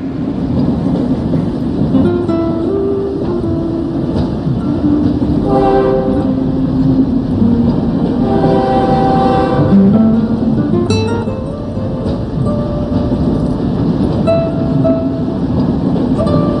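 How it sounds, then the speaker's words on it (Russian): A train rumbles steadily nearby with a drawn-out horn sounding midway, its wheels and carriages droning continuously as it moves off. "Иди, поезд уезжает"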